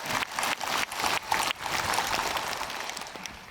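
A church congregation applauds together during a Liturgy of the Word gathering, with loud, dense, sustained clapping that surges and dips a few times across the clip.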